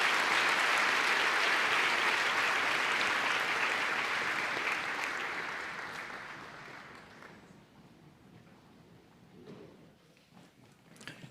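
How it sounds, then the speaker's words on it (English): A high school graduation ceremony audience applauds the senior choir with dense, sustained clapping that gradually fades into a quiet hall with scattered claps and faint shuffling. "One more round of applause for them, please."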